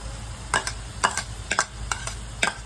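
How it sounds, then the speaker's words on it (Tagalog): Dried anchovies go into a pan of frying saluyot and chili leaves, giving a series of short crackling stirs and taps roughly every half second over a low steady sizzle, close and moderately loud, with no voices. "Pwede na natin ilagay ang diles."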